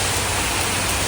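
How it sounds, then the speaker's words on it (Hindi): A sudden heavy downpour makes a dense, unbroken roar of rain, loud and steady throughout the brief moment. "बारिश आई एकदम से तेज आई।"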